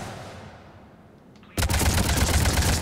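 Avenger assault rifle fire in the video game Mass Effect 3, a sudden loud sustained burst of rapid gunfire that starts after a quieter rumbling lead-in.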